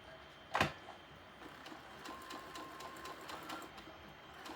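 A sewing machine stitches across a quilted cow head, catching a missed spot at the muzzle. It gives a faint, steady mechanical whir with light ticking and one sharper knock near the start, and no one speaks.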